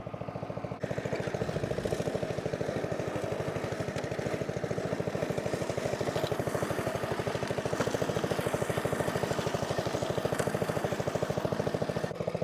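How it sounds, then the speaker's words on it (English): A lawn mower trims grass in a garden, a steady, loud, rapidly pulsing engine drone running unchanged throughout after a short start. "When I'm literally like trimming the grass, the sack is pretty sizable"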